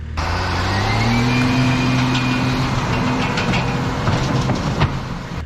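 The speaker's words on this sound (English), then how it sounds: "I'm just scratching the surface of the pad up with the teeth on the bucket there" A machine's bucket teeth scrape across a dirt building pad under a loud, steady engine drone, with rougher grinding scrapes toward the end.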